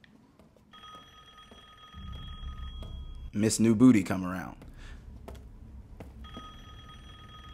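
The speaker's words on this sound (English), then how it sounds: "The phone ringing." A telephone rings inside the horror video game Resident Evil Village, a repeated electronic trill at moderate level that stops while a person speaks loudly over the game audio, then starts again near the end.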